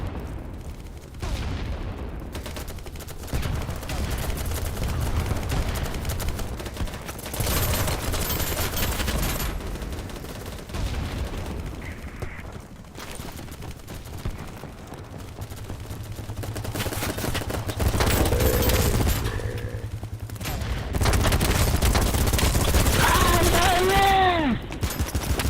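Gunfire in the Battlebit video game, scattered shots and bursts over a long stretch with booming impacts, mixed with frequent talking over the action.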